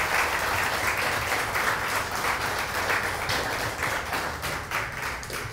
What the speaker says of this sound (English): Lots of applause.